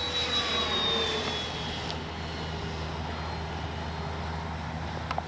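An FMS 1400mm F4U Corsair RC warbird makes a belly pass, its motor whine loud at first, then fading to a steady distant drone.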